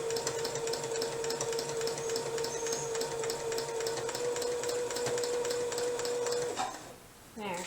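A small domestic sewing machine runs continuously while quilting, a fast even rhythmic whirring stitch that holds steady before stopping abruptly near the end, followed by brief handling noise.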